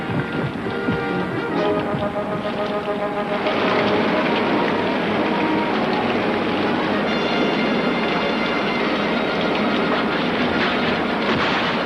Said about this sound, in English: high winds are accompanying the heavy downpour in some areas